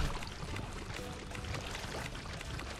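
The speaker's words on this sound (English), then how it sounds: "You just run up here and collect your dirty water." Dirty water is gathered in Fallout 76, heard as a continuous splashing, pouring water sound with broad hiss that holds steady for the whole stretch, with no talking.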